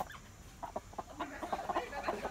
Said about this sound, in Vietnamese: Đó là chơi toàn gà chọi này